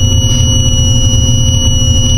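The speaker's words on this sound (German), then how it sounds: "Dann hört das Piepsen auch wieder auf." A new excavator sounds a steady high-pitched warning tone that holds unbroken over a loud, low engine drone.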